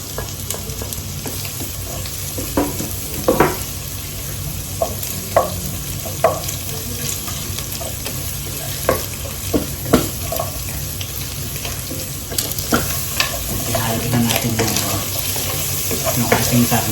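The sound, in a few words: garlic sautéing in a pan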